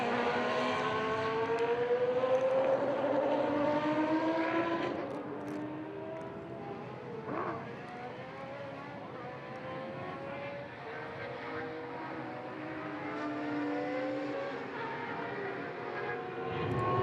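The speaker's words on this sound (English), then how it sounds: "Let's make sure the car gets a lap or so of pure sound." A racing car with a 3.5-litre engine laps a circuit at a classic race meeting, its engine note rising and falling in pitch as it passes, loud at first then fading to a steady distant drone.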